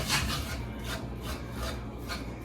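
A utensil rubs chunks of flour against the side of a pan for a garlic Parmesan meatloaf sauce, making a steady rasping scrape with repeated strokes, close and continuous with no talking.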